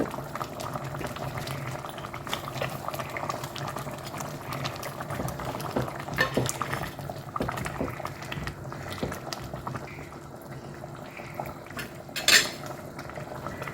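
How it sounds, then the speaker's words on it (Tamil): Fish curry with tongue sole (naaku meen kulambu) and radish greens bubbling steadily in a pot, a continuous close simmer with small pops and an occasional clink of utensils. "குழம்பு நல்லா கொதிச்சு வருது"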